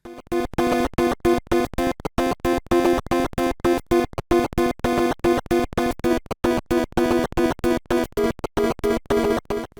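NES title music from F-15 City War: chiptune-style game music in short choppy bursts, bright and buzzy, looping a brisk melody with a regular stop-start pulse.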